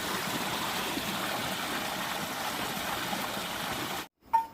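Water runs steadily through a farm irrigation channel beside a well, a continuous broadband rush that holds near and even for about four seconds, then drops out abruptly, followed by a brief knock.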